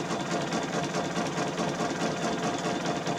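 A quilting sewing machine runs steadily while echo quilting, its needle stitching in a fast, even mechanical whir at moderate speed, close and continuous with no talking.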